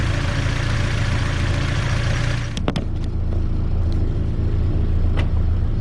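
A Datsun 510's engine runs steadily on a test drive, a continuous low rumble and drone filling the cabin, with a few brief clicks and knocks partway through and no talking.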